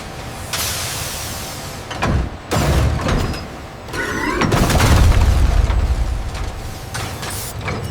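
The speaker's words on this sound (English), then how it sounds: "The green tire undergoes initial vulcanization within the giant hydraulic curing press" A giant hydraulic tire curing press vulcanizes a green tire, with heavy mechanical thuds, creaks and a deep rumbling surge building midway, then steady industrial noise.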